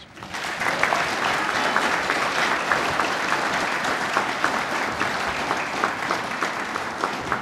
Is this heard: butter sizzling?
no